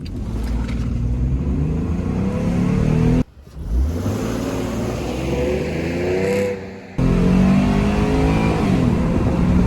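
A Ford F-150 pickup's V6 engine revs hard and accelerates, roaring steadily, cut by two brief breaks before surging again, loud and close.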